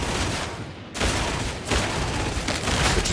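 Lasgun fire in Warhammer 40,000: Darktide, a dense rapid barrage of loud crackling shots in three continuous bursts separated by brief dips, with no voices.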